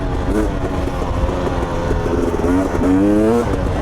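A KTM 250 XC dirt bike revs hard in third gear, its engine note rising and falling loudly and close, with a strong surge toward the end as the front wheel lifts.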